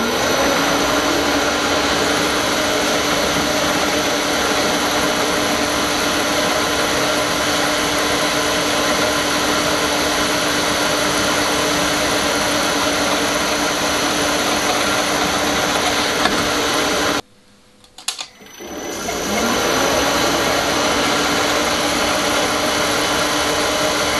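A power drill runs steadily while boring 3.3 mm tapping holes through two stacked parts for a router rail, a loud continuous whine that cuts out briefly near the end before resuming.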